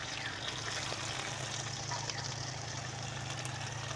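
Panch phoron and green chilies frying in hot oil, a soft, steady sizzle and crackle that stays even throughout, quiet and close with no other sounds.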